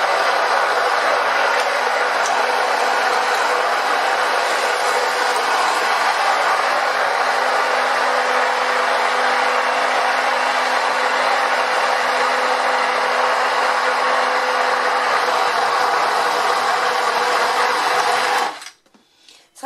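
A kitchen blender purees vegetables for baby food, a loud, steady, high-pitched whir running without pause for about eighteen seconds before cutting off abruptly, with no talking.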